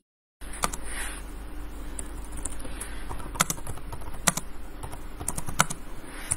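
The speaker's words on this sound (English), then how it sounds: "So then I'm going to type it now." Someone typing on a computer keyboard at close range, irregular soft key clicks with a few sharper taps over a low steady background hum, no talking.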